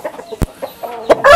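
Tiger chickens, a colourful native-looking breed, give a few short, scattered clucks close by, with sparse gaps of quiet and a brief louder call near the end.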